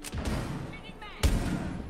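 Gunfire in the tactical shooter Rainbow Six Siege, heard as a couple of sharp shots, with one loud crack near the end of a short burst, under excited voices reacting.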